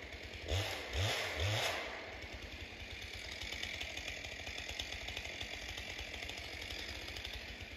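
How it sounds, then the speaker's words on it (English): A chainsaw cutting an oak tree revs loudly three times in quick succession, then settles into a steady, close, high-pitched buzzing drone that runs without a break. "Looks like back to the chainsaw."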